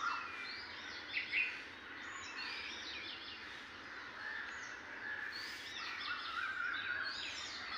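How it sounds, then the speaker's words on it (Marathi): Koels and other birds calling outdoors near Madh Island and Versova harbour, a mix of chirps and calls at moderate distance over a steady background hush, with no talking. "पक्ष्यांचे कुहू आवाज, कोकिळेचा आवाज आणि बाकी इतर पक्ष्यांचे आवाज आपल्याला येत आहेत."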